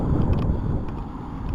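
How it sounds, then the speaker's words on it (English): Steady wind of about 15 mph rushes across an outdoor microphone, a broad continuous roar with small gusty swells and no talking. "It's a steady 15 mile an hour wind. And every once in a while you get a gust."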